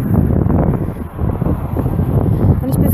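Strong wind buffets the microphone outdoors, a loud, rumbling, gusting roar that dips briefly and then surges again, with speech partly buried beneath it.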